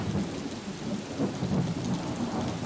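Heavy monsoon rain pours steadily in Belagavi while thunder rumbles low through the downpour, a dense continuous wash of rain with rolling deep booms, no voices.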